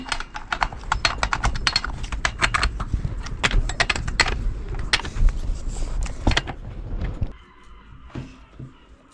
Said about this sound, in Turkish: Bu şekilde gerdirdikten sonra gevşetmiş olduğunuz somunları sıkın.